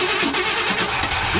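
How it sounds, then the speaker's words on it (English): Starter cranking on a 1968 Ford F100 pickup with a bad carburetor, engaged by jumper wire, a loud close mechanical churn running continuously for the whole moment. "we're going to engage the starter with our jumper wire and see if she'll crank"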